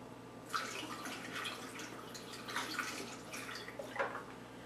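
Blackberries and liquid are poured for blackberry wine, giving soft splashing, dripping bursts in several uneven pulses, fairly quiet and close with no talking.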